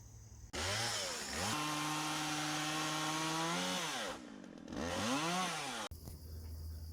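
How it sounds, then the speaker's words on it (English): A chainsaw revs and bites through low-hanging tree branches, its engine note rising and dipping as it loads up in the cut, loud and close, then cutting out abruptly near the end. "I'm going to get the chainsaw out"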